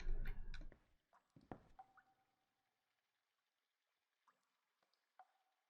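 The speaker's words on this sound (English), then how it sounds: "It's dripping." Water dripping from a pipe in the video game Myst, a few sparse, faint drips and small liquid plinks after a brief splashy start, then near silence.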